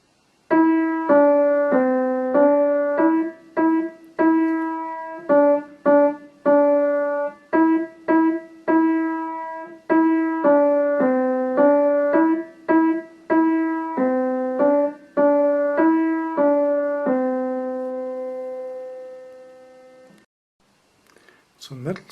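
Piano plays a simple beginner melody from middle C position, a steady string of single notes over about twenty seconds ending on a long held tone that fades away, followed by a faint brief noise at the end.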